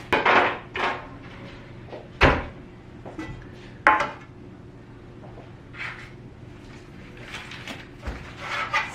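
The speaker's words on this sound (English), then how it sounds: "let me get out a cake pan to put those in" A cake pan is pulled from a kitchen cupboard, with several sharp wooden knocks and metallic clanks of cookware shuffling, spaced irregularly over a quiet room background.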